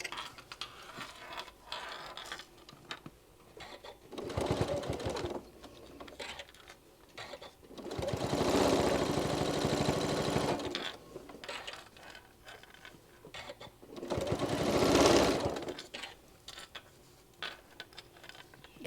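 A sewing machine stitches an oven mitt in three separate runs, each a few seconds of fast, even mechanical whirring and clatter, with quieter pauses between them while the fabric is pivoted.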